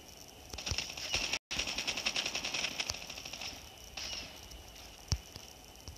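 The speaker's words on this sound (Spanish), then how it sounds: "Y tenemos a alguien disparando." Gunfire in a Call of Duty Mobile battle royale match, a rapid run of clicky automatic shots at moderate distance, pausing briefly and trailing off into scattered single cracks, with no talk.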